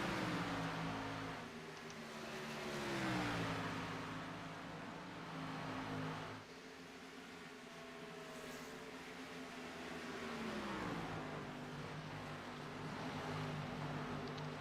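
NextGen stock race cars run laps at Las Vegas, engines droning faintly at a distance as cars sweep past in rising and falling passes, with no talking.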